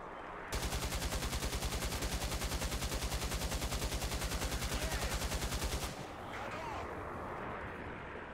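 Quad 14.5 mm KPVT anti-aircraft machine guns in War Thunder open up in one loud, rapid, evenly pulsed burst lasting about five seconds, then stop abruptly and leave a quieter rumble behind.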